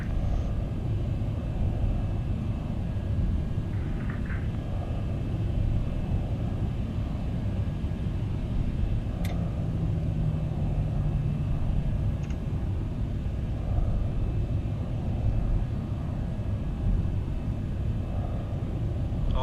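Boeing 737 in the X-Plane 12 flight simulator taxiing at an airport: a steady low engine rumble and hum that holds at an even level throughout, with no talk over it.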